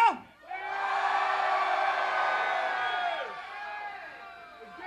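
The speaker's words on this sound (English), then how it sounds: "at best, that was called a hollering. That was not screaming." A rock club concert crowd hollers and screams in one sustained, loud wave of massed voices. It starts after a brief shout, holds steady for several seconds and then slowly fades.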